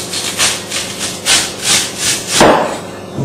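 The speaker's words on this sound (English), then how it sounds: "if you have particularly large rhubarb like this, you can split it down" A knife splits a large fresh rhubarb stalk lengthwise on a board, making a few rhythmic, close, fibrous scraping strokes that finish in a sharper crunch.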